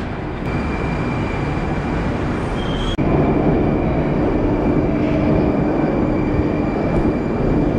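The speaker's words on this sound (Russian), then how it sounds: "а поезд уже тормозит" A metro train in the Moscow or Saint Petersburg metro rumbles steadily with a faint high whine, a brief jolt partway through, and a low hum as it brakes at a station platform.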